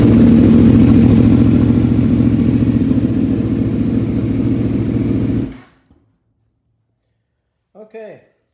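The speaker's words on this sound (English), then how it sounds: "I'm going to attempt to start the motorcycle and see what happens." An Aprilia Tuono V4 1100 motorcycle with a new exhaust runs loudly at a rough, throbbing idle for several seconds before cutting off abruptly into near silence, followed by a brief voice.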